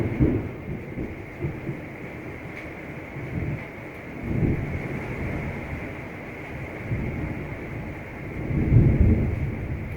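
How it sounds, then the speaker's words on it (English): Thunder rolls outside during a thunderstorm, several deep rumbles swelling and fading over steady rain and wind, distant and muffled indoors, with no talking. "Crazy thunderstorm outside."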